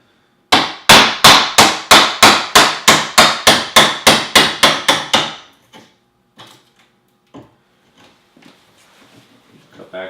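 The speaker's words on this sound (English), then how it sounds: "It'll start peeling that material out" Hammer striking a chisel to cut a recess into a wooden door frame: about fourteen sharp, evenly spaced blows in quick succession, then scattered lighter taps and scraping as material is pried out.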